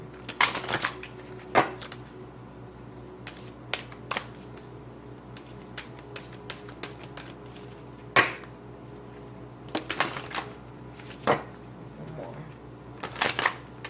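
Quick crisp riffling bursts of cards being shuffled, several separate flurries spread out over a quiet room background.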